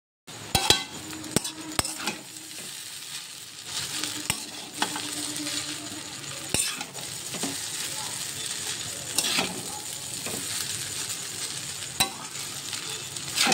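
Boiled chow mein noodles fry and are tossed in a pan for a home dinner, a steady sizzle under frequent sharp clicks and scrapes of the utensil against the metal.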